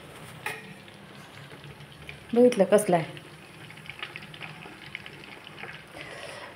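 Butter boils down into ghee in a pan with a steady, close bubbling sizzle throughout, a brief burst of louder stirring noise in the middle, and a person speaking briefly over it.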